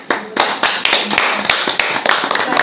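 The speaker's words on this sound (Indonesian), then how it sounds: "Berikan tepuk tangan dulu. Yang meriah buat kelompok dua." A church congregation at a worship service claps, with a burst of uneven, crisp handclaps from a modest group, close and distinct, starting sparse and growing busier.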